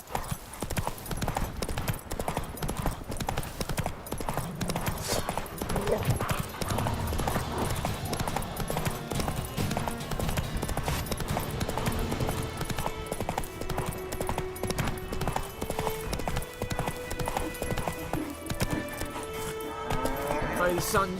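Roach, a horse in The Witcher 3, gallops with rapid rhythmic hoofbeats over a game score, broken by an occasional whinny and snort, close and continuous for the whole stretch.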